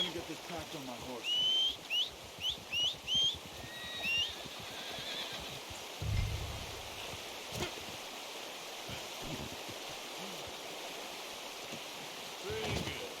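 A horse in Red Dead Redemption 2 gives a clear whinny, a few short rising cries near the start, then hooves clop softly along with a wash of outdoor ambience and faint voices talking.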